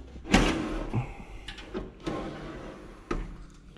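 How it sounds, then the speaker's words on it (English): Hood of a Sears Hydro Diesel garden tractor flipped open in a few quick hollow metal clunks and knocks, one sharp thump at the start and lighter bumps after, close by with no talk. "We'll flip the hood open here."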